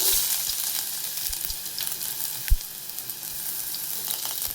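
Onion frying in a little oil in a pan, a steady broadband sizzle throughout with a couple of soft knocks and one sharper clack midway, close and moderately loud, no talking.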